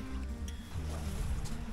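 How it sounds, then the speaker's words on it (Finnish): River rapids rush continuously with a steady broadband roar of water, heard from close by with a few faint splashes. "vuolaampi koski."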